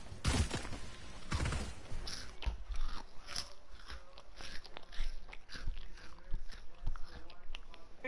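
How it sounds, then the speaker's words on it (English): A person chewing over voice chat during a Fortnite session: crunchy bites and wet chewing repeat unevenly for several seconds, with loud crunches early, compressed chat audio and faint talk underneath. "I can hear you chewing."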